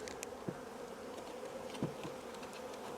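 Bees buzz steadily inside a hive split, a continuous close drone with a few brief louder passes, no voices.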